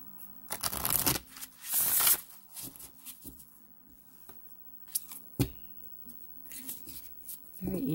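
An oracle card deck riffles in two quick bursts, followed by sparse taps and soft shuffling sounds, close and fairly quiet.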